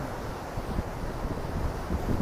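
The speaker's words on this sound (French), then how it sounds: "Il y a du vent là." Steady wind gusts buffet the microphone outdoors during a casual walk, giving a continuous low rumbling roar without pauses or voices.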